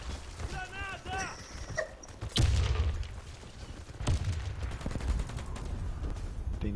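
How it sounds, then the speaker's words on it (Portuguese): A grenade blast and bursts of gunfire in a shooter game round, with a heavy boom followed by scattered shots while players talk over the action. "Granada!"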